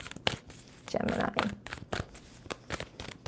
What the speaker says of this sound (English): 2 more shuffles for Gemini.